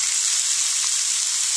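Garlic and thinly sliced ivy gourd frying in oil in a pan, an even close hiss of sizzling, steady and alone.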